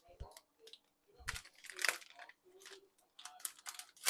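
Jalapeños being sliced open with a knife on a kitchen board, giving a few crisp, close cutting clicks and crunches spread through a few quiet seconds with light handling noise between them.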